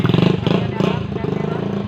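Motorcycle engine chugging in quick pulsing beats as it is ridden, close and fairly loud, with a rattling clatter over the rhythm.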